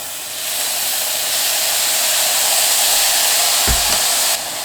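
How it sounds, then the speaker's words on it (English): A browned pan is deglazed with gluten-free soy sauce and Bragg's liquid aminos, giving a loud, steady sizzling hiss of steam that holds throughout, with a brief low clunk near the end. "So I'm going to deglaze"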